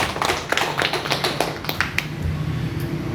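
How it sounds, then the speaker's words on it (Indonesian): At a village council capacity-building session in Indonesia, audience members clap their hands, with a few sharp, scattered claps up close that thin out toward the end over a low background hum. "Tepuk tangan buat kita semua dong."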